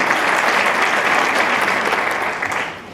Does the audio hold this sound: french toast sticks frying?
no